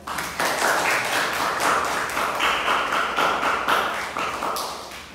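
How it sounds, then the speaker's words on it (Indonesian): A class of students claps together after poetry readings, steady rhythmic applause filling the whole few seconds at close range, with no talking over it. "Boleh tepuk tangan dong buat kalian semua"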